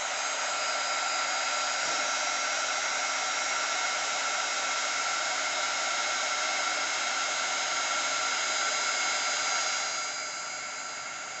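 Heat embossing tool blows hot air over a stamped card, a loud, steady fan-driven whoosh running without a break for about ten seconds before easing slightly at the end, with no talking.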